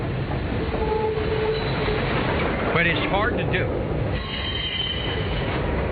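Someone blows a small whistle to imitate a train, producing a few sliding, warbling tones over a steady rumbling railway-like background. Someone speaks briefly in the same clip.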